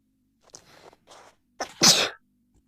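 A cartoon character in the Avatar World video game sneezes once, loud and close, after a short sniffly intake, with quiet game sounds before it.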